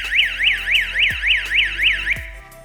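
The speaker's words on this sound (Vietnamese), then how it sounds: "Cái còi này nó kêu to một mức khủng khiếp." A homemade door security alarm's siren wails loudly and close up, sweeping up and down in a rapid repeating cycle for several seconds, then cuts off with a couple of clicks near the end.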